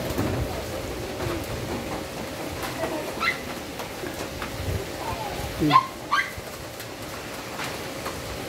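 Heavy rain falls steadily outdoors as a soft, constant hiss, with a few sharper sounds and muffled voices over it.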